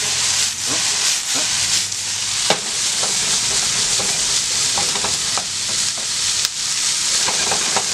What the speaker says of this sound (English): I'm going to dump my potatoes in now. I'm going to get these incorporated into the pan.